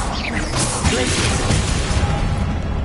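A Glacius freezing spell in Hogwarts Legacy is cast with a swooshing, crashing burst near the start, followed by a rattling, mechanical shimmer of game effects that gradually settles.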